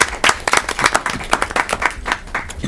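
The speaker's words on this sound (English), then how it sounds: "Go ahead, give yourselves an applaud for being here." A group clapping for a Boy Scout troop at a Board of Education meeting, brisk close claps in a quick, uneven rhythm lasting a few seconds.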